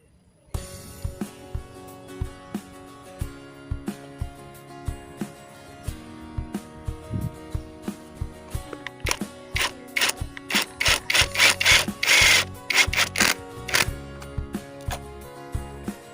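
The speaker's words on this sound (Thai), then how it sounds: "ใช้น็อต ใช้สกรูนะครับ ยิงเข้าไปนะครับ ยึดฝานะครับให้ติดกับแผ่นไม้ได้เลย" Screws are driven through a lid into a wooden board with a power screwdriver, giving a series of close, sharp whirring bursts and creaks, sparse at first and then a dense, louder run of driving near the end.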